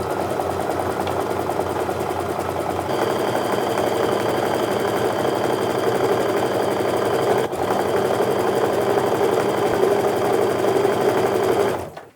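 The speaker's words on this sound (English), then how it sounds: "I'm just going to sew that 1/4 inch seam all the way down" A sewing machine stitches a quarter-inch quilt seam in one long continuous run, a steady close mechanical whir that carries on for about twelve seconds before stopping at the end.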